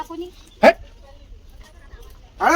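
A dog gives a single sharp bark, then another starts a couple of seconds later, with quiet background between them.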